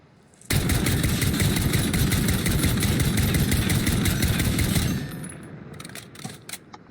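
A Type 63 rifle fires in Call of Duty Warzone with rapid, evenly spaced close shots in one sustained burst of about four seconds, then a short tail of scattered clicks and fading echo.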